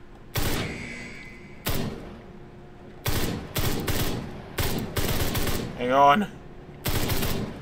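Bursts of gunfire from a firearm in the video game Ride to Hell: Retribution, several sharp loud volleys separated by pauses, with a brief reload clatter midway and someone speaking briefly.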